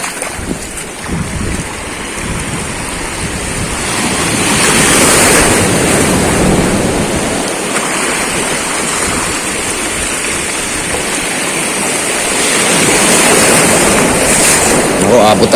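Ocean waves surge and break around someone standing waist-deep in water near dead coral, a loud, rushing roar with strong wind buffeting the microphone throughout.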